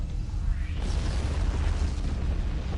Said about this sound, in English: Oh, this explosion's gonna hurt.